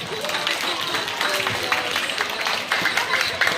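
Schoolchildren clap together at a primary school in Jerteh, a steady, busy patter of many small hands that carries on throughout, with voices mixed in among the clapping.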